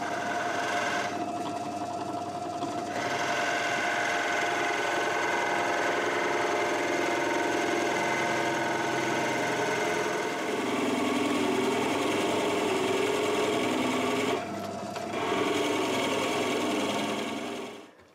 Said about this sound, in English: So that's our 4 holes drilled,